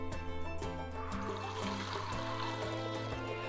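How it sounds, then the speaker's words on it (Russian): Water poured over half a lemon and a little mint to make homemade kvass: a steady, continuous trickle and splash that runs at an even level throughout, close by and with no talking. "И все это заливаем мы с вами 2 литрами водички."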